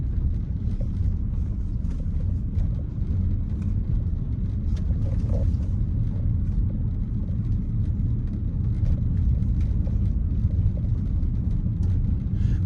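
Car rolling slowly at about 11 miles an hour through a residential Savannah, Georgia neighborhood, a steady close engine and road rumble inside the cabin with no talk.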